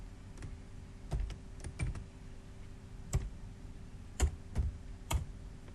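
Keys tapped on a computer keyboard while an employee ID is entered into a spreadsheet, a sparse string of single close clicks with irregular gaps, quiet and without any voices.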